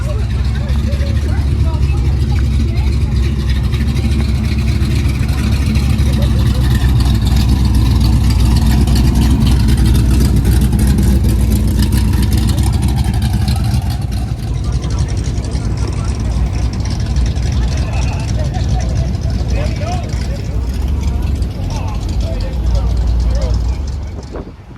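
A Mopar car with a Hemi engine runs at a Chrysler Nationals car show, a loud steady low rumble filling the whole stretch, with crowd noise and people talking around it.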